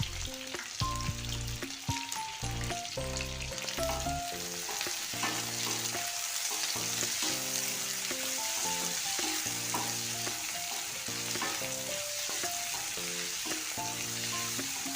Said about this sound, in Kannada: ಇಷ್ಟನ್ನಾಗಿ ಚೆನ್ನಾಗಿ ಫ್ರೈ ಮಾಡ್ಕೋಬೇಕು